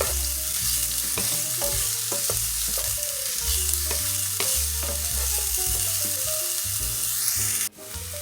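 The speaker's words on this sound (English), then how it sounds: "Now we're going to add our onion in. And you want to let that saute for about 1 minute." Onion sautéing in a hot pan for one-pan chicken and rice, a loud steady sizzle with repeated stirring scrapes and clinks close by, no voices.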